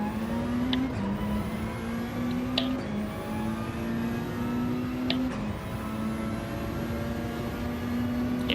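A Mazda race car in Gran Turismo 7 drones with a steady engine whine, its pitch climbing and resetting through several gear changes, close and continuous with no talking.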